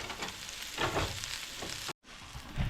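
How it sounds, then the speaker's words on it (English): A leftover vegetable pancake frying in a pan over medium heat, producing a close, continuous sizzle with soft crackles and a brief gap of silence near the end. "just let it fry for a little bit, and then flip to the other side"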